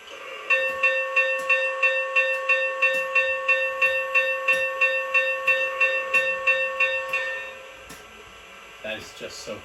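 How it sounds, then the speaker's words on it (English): An MTH PS3 Union Pacific Big Boy model locomotive's bell rings in a steady, rapid series of bright clangs for about seven seconds, then fades out, followed by a brief muffled noise. "now let's go ahead and check out the bell."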